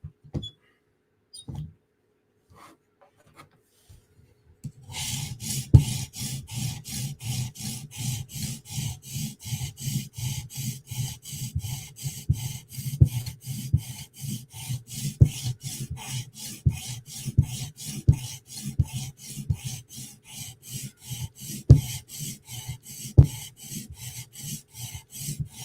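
A Chris Reeve Umnumzaan Tanto knife is sharpened to a mirror edge. After a few isolated taps, fast steady back-and-forth rasping strokes run continuously and fairly close, with occasional louder knocks.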